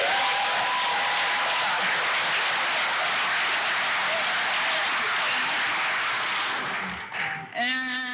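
Gala audience at a graduation celebration bursts into loud, sustained applause, a thick roar of many hands that tapers briefly near the end as a voice starts to speak.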